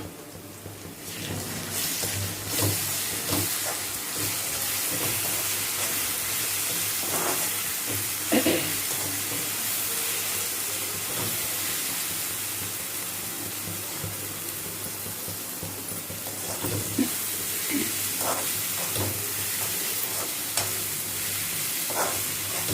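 Green chillies, coriander, ginger-garlic paste, cumin and salt fry in hot oil in a pan, giving a steady, close sizzling hiss for the whole stretch, broken by a few faint clicks of stirring. No one talks.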